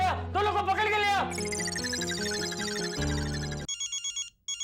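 Electronic phone ringtone for an incoming call from Bhide, a bright, busy melodic jingle with sliding tones and a steady pulsing pattern, ending in a few short repeated beeps.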